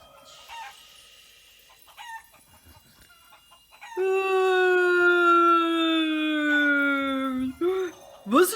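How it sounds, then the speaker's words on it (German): A rooster crows loudly in one long drawn-out call, with softer clucking and scattered chicken noises before and after. "Die Hühnerschar ist im Garten raus."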